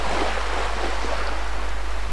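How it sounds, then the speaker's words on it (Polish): Water rushes steadily in the city-building game Cities XL, a continuous broadband whoosh with no breaks and no voices. "Szumi ta woda"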